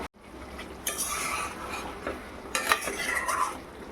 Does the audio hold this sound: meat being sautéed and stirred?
yes